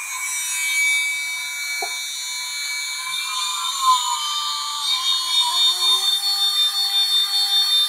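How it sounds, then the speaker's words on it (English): A 2.2kW spindle on a 3040 CNC machine runs with no cooling fan, giving a steady high-pitched whine with layered tones that rises slightly as it spins up, fairly quiet and alone. "turn on the spindle here, which I'm amazed how quiet it is without having a fan"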